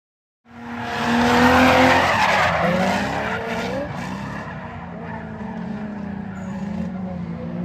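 Tires squeal long and loud as a fire-damaged Miata drifts at Evergreen Raceway, the engine droning beneath a sustained skid that rises and bends in pitch, with no talk.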